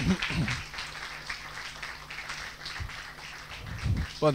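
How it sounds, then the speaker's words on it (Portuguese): Church congregation clapping for Jesus during a worship service, a dense, steady wash of many hands with a few voices rising over it. "Vamos dar a Jesus uma salva de palmas."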